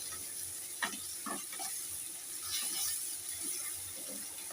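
Tomato, onion and salt being stirred in a frying pan for a rohu fish curry, with soft scraping spoon strokes and a low sizzle, moderately close and fairly quiet, no talk.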